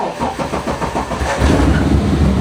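A car engine cranks and catches after the key is turned, a rough sputtering churn that settles into a louder, steady idle rumble close up.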